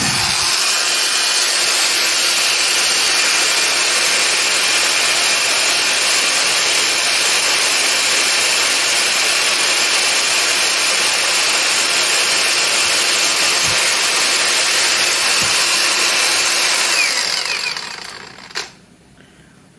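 A Kamolee cordless 5-inch angle grinder runs at its highest speed with a loud, constant high whine. It holds steady for about seventeen seconds, then spins down and cuts off near the end.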